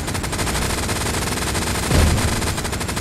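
Dense machine-gun fire rattles continuously in the World War II video game Hell Let Loose during a tank crew battle, loud rapid bursts with a heavier thump near the middle.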